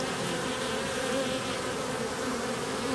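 Honeybees buzz at a hive in an apiary in late November, a dense, steady close-up hum with no talking.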